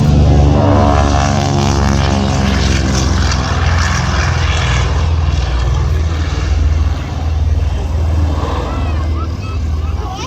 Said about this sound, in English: That is the sound of the Curtiss C-46 Commando.